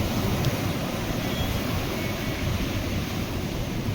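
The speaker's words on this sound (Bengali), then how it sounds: "আসছে দেখো, ঢেউটা আসছে দেখো।" A sea wave rushing in up to the steps at a Mandarmani beach resort, a dense, loud wash of surf and wind with no break across its short length.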